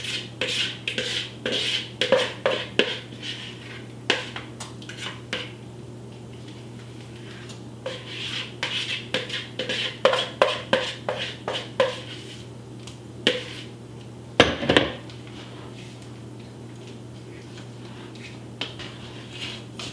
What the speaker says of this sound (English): So now I will put the soup and the veggies into the breading mixture, or the cornbread mixture.